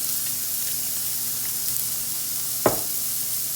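A garlic and onion burger patty sizzles steadily in a hot pan, a constant hiss broken by one sharp, brief crackle near the end.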